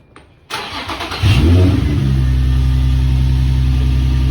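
An Infiniti G35 after an idler pulley delete cranks briefly, fires up and revs, then settles into a loud, steady idle close by.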